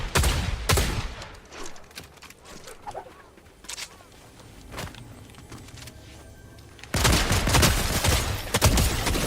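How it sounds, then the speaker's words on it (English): Bursts of rapid video game gunfire, loud and sharp, with scattered shots between a heavy opening volley and a dense final barrage; no talking alongside. "I'm shooting."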